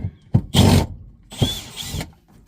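Two short whirring bursts of a power drill backing out a screw during an RV refrigerator install, close and loud, with a brief clunk before each run.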